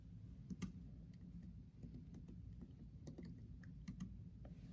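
Typing on a computer keyboard, a run of light irregular key clicks over a low background hum, close but faint.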